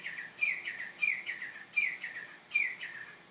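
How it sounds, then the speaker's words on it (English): A loud bird calls outdoors in a repeating pattern of bright chirping phrases, four bursts at steady intervals, close and clear with no voices over it. "Do you hear that loud bird?"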